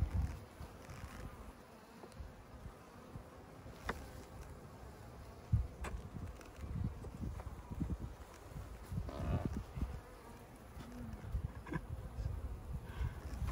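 Honeybees buzzing around an opened overwintered hive during spring maintenance, a steady close hum from many insects with some soft handling knocks, no talking.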